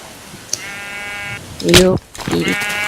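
Minecraft sheep bleating in a jungle survival game: two drawn-out, nasal bleats a second or so apart, with a louder short game sound in between and a faint voice briefly underneath.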